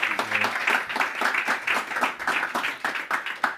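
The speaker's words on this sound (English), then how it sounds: "Let's please another round of applause" Conference audience applauding, dense rapid clapping at steady strength across the room for a few seconds.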